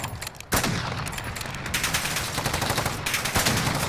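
Bursts of gunfire from a Call of Duty sniper match, a sharp loud shot at the start followed by dense rapid volleys and repeated firing continuing to the end, with no talking.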